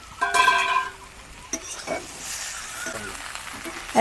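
Parboiled okra tumbling into a pan of frying potatoes gives a brief scrape and clatter, then a steady soft sizzle.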